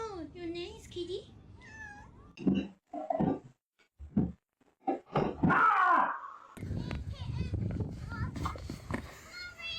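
A cat meows in a few drawn-out, wavering cries near the start, then a person speaks to it in a soft, coaxing voice while further cries and rustling mix in.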